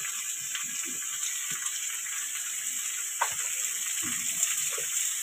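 A steady, hissing sizzle of pumpkin, sweet potato and Malabar spinach stems frying in hot oil, with a few soft clinks and splashes underneath.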